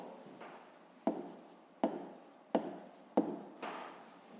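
Pen writing on paper, close and quiet, in a few short scratchy strokes each ending in a sharp tap, spaced under a second apart.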